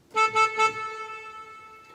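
Three short electronic horn-like toots in quick succession, like a car horn, followed by a sustained tone that slowly fades out.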